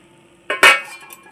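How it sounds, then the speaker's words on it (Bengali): A metal lid comes off a cooking pot of rice with one brief clink and clatter, close and distinct against a quiet kitchen, then a faint rattle as it settles. "ঢাকাটা আমি খুলে নিচ্ছি"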